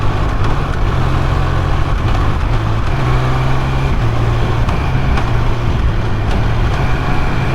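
Triumph Speed Triple 1200 RS engine runs steadily and loud nearby, with a low, continuous rumble and slight pitch steps that could be quickshifter blipper downshifts.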